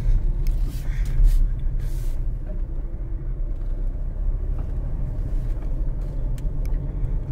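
A video-game car drives across wet cropland toward a forest, its engine a steady low rumble throughout, with a few brief clicks and knocks over it.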